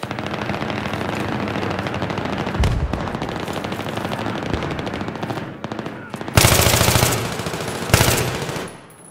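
Bursts of machine gun fire crack repeatedly in a Battlefield 3 team deathmatch at the Seine crossing, rapid rattling volleys under constant battle noise, with two louder, closer bursts near the end.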